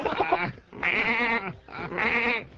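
Goat or sheep bleating in three loud, close, wavering calls separated by short pauses, with no talk over them.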